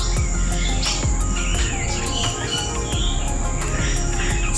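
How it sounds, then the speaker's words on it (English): Weaver birds chirp and call from bamboo inside a large forested aviary, overlapping bright calls against a dense, insect-like background chorus. "Check out these weavers all on the bamboo."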